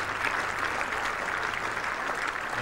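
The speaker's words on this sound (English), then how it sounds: "And warm applause from another very good crowd in here at the Oval" A cricket crowd at the Oval applauds England reaching 100 in a Test match against Sri Lanka, a steady, distant wash of clapping throughout.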